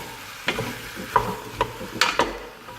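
Mixed vegetables with broccoli sweating in a soup pot, giving a soft, low sizzle broken by a few sharp scrapes and knocks as they are stirred, fairly close and without talk.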